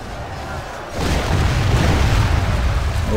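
Catapult bombardment striking in a Total War Third Age Reforged battle at Dale, a sudden heavy impact that swells into a loud, sustained rumbling roar of crashing debris.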